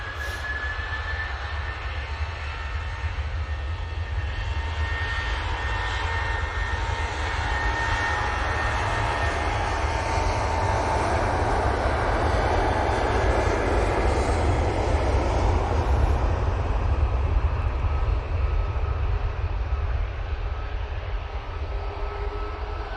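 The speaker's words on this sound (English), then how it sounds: "Right, off to Rome. We'll be going with this 737" A Boeing 737 airliner in .com livery departs for Rome from Manchester Airport, its jet engines a steady, broad roar that holds near and loud throughout without a break.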